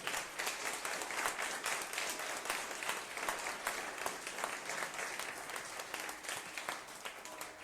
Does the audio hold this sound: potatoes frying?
no